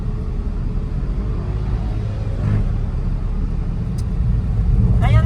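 Steady, loud engine rumble from a small Suzuki Espresso car, a low continuous drone that swells slightly at points, with no talk over it.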